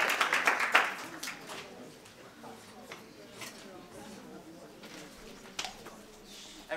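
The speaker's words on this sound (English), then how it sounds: "let's hear a wonderful round of applause for Hannah Charles" Applause from an audience at a poetry recitation competition, loudest at the start and then trailing into scattered claps, room murmur and faint voices.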